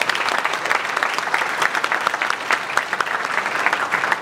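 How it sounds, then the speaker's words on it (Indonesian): Loud, continuous crowd applause at the formal opening of an art exhibition in Indonesia, many hands clapping at once and holding steady for several seconds. "ini kita buka dengan tepuk tangan bersama"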